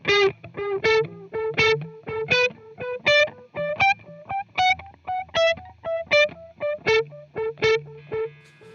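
Distorted electric guitar through a Suhr PT100 amp plugin with the delay mix pushed higher, a fast run of picked notes whose repeats blend audibly behind them, loud and upfront, no voices.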